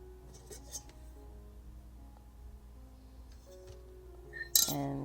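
A stainless steel milk frother cup and its lid clink together: faint handling noise, then one sharp, bright metallic clink close up near the end.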